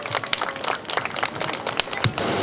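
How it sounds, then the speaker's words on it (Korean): An outdoor crowd at a protest rally applauds to welcome a speaker, with scattered, uneven clapping close by and a camera shutter click near the end. "박수로 모시도록 하겠습니다"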